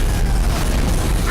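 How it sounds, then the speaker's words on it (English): Explosions in Dead Space 3 make a loud, continuous, dense roar of booming blasts that fills the short stretch without a break. "I can't even concentrate because there's just so much explosions"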